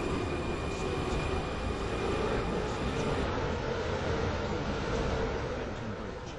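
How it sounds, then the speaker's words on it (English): A four-coach train approaching West Benton station, a steady loud rumbling roar that holds throughout with a constant hum underneath and a slight high hiss. "This train has 4 coaches. The train now approaching."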